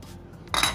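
Spoon tipping baking soda into a bowl of sifted all-purpose flour, one brief metallic clink and scrape after a quiet moment, close and fairly loud.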